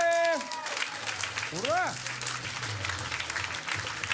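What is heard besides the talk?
applause sound effect from video game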